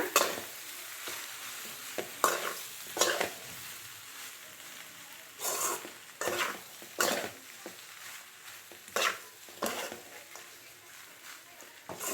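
Egg pasta masala stirred in a pan, with a spoon scraping and clanking in irregular bursts over a quiet sizzle, close and fairly crisp.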